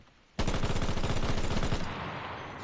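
In the Enlisted video game, a machine gun fires from its deployed bipod in one loud, rapid burst of about a second and a half, then rings out in a fading tail.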